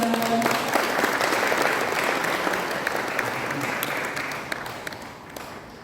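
Sustained applause from a large crowd at a Korean independence movement memorial ceremony, a dense steady patter of many hands that gradually thins and fades toward the end.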